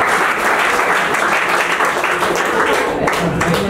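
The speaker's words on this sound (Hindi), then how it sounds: "तालियों से स्वागत कीजिएगा" Audience applause welcoming a poet at a Hindi shayari open mic in Raipur: dense, steady clapping from a crowd, loud and close, filling the whole stretch without a break.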